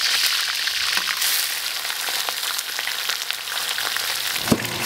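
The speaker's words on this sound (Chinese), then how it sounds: "锅里加入菜籽油，这个鱼肉下锅煎" Fish pieces frying in rapeseed oil in a wok give a steady, close sizzle and crackle that runs throughout, with a few brief clatters near the end and no talk.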